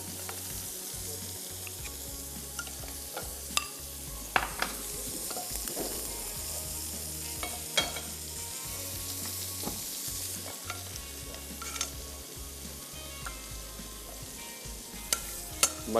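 Butter melting in a pan for Tabarak roti, giving a steady soft sizzle with occasional faint stirring clicks and scrapes, close by with no talking.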